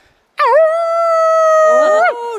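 A man imitates a dog's howl as a signal, giving one long, loud, sustained wavering howl that bends down in pitch at the end, with nothing else heard around it.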